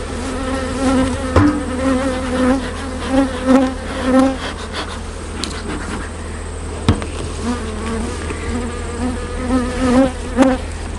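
Honeybees swarm over an open hive during a colony inspection, a dense close buzz rising and falling continuously, with occasional faint knocks of hive tools.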